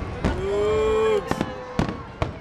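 Firework shells crack and pop in a few separate bursts over Portugal, one preceded by a rising whistle, with a voice briefly exclaiming in between.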